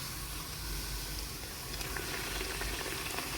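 Coconut puri deep-frying in hot oil gives off a steady, dense bubbling sizzle that holds at an even level throughout, close by and with no voices.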